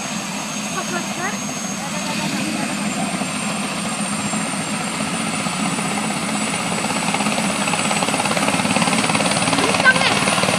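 A helicopter departs, its rotor and engine producing a steady, loud whirring drone that grows gradually stronger throughout.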